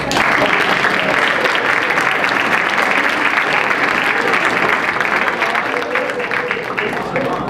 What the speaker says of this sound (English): Let's hold the applause until the end